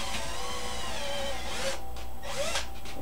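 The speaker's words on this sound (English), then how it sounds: "Commence drilling!" A power drill whines at close range, its pitch shifting as it bites into material, with brief pauses and a second burst near the end.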